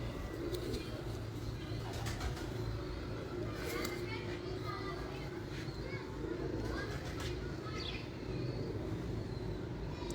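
Breeder pigeons coo softly in a loft, their low repeated calls running through continuous background chatter and voices, with children faintly audible.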